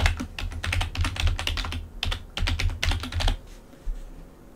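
Close, rapid keystrokes on a computer keyboard come in bursts with brief pauses while a user name and account details are entered during Manjaro Linux setup.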